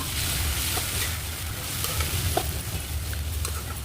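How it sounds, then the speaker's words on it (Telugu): Boiled banana flower goes into a pan of frying onions for a curry, giving a loud, steady sizzle with stirring scrapes close by and no talk. "ఉడకపెట్టి రెడీగా పెట్టుకున్న అరటి పువ్వుని ఇందులో వేసేసుకోండి నేనైతే ఇక్కడ వేసేస్తున్నాను"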